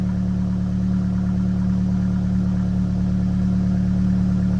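A 2013 Fiat 500 engine runs steadily after a throttle body connector replacement, giving a close, even idle hum with no pauses or talk.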